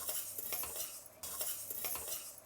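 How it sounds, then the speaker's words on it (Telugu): Roasted horse gram being stirred in a pan with coriander seeds, cumin, black pepper and fenugreek, a steady dry scraping and rustling with light clinks of the spoon against the pan, close by and continuous. "ఇవన్నీ వేసి ఒకసారి కలుపుకుందాము."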